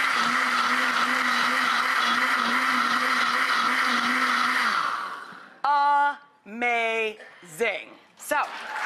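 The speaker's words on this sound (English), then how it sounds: "now I take the heavy duty blender" A heavy-duty blender whirs loudly and steadily for several seconds while blending cauliflower, then stops abruptly, followed by voices talking.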